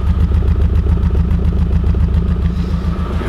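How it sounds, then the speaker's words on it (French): A Renault Clio RS engine idles roughly while misfiring on three cylinders, a loud, close, uneven throbbing with a lumpy, stumbling rhythm that stays steady throughout, no voices. "Le moteur tourne sur 3 cylindres, mais il tourne bien sur 3 cylindres en tout cas."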